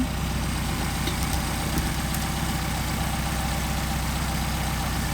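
Mercedes 190SL engine with Solex carburetors idling steadily during idle-screw adjustment, a continuous low rumble that stays even and unbroken throughout, with no voices over it.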